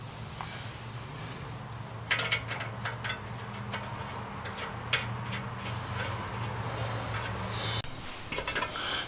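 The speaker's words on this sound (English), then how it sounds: "I'm going to put a washer and a nut on each one of them." Washers and nuts being fitted onto the wheel studs of a Ford 8N tractor, heard as a series of close metallic clicks, rattles and ratchet-like clatters over a steady background hum.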